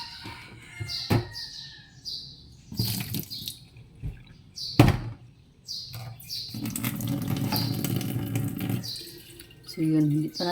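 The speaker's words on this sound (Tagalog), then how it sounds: "Kaya medyo mahinay lang ang agos ng tubig natin." A weak trickle of tap water running from an outdoor faucet at a rural home, flowing in uneven bursts with clatters of handling around it, then a steadier splash building toward the end.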